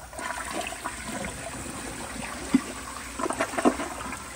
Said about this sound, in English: let me go ahead and lock the focus and I'll give you all a flush.